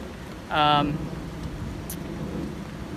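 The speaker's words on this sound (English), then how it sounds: "as I walk home in this torrential downpour" Steady heavy rain hisses throughout, with a short burst of a person's voice near the start.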